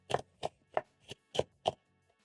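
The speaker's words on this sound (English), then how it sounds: "I'm done shredding up my cabbage" A knife chops through cabbage on a cutting board, six crisp, evenly spaced strokes in quick rhythm, close and clear with no talk.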